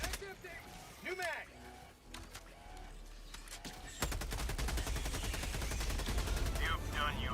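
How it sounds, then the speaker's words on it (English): A machine gun sentry in a video game opens fire in a sustained rapid burst of gunfire that dominates the second half, following earlier scattered shots and game sounds, with a voice heard briefly. "Machine gun sentry."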